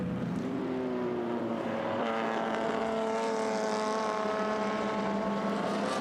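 Vintage drum-brake racing car passing at St Mary's into the dip on a circuit, engine note rising and sweeping by steadily over about six seconds, loud and continuous with no talk.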